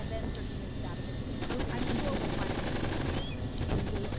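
Bursts of automatic gunfire hit a turret inside a facility in a shooter video game, played steadily at moderate loudness over a busy background, with rapid repeated shots.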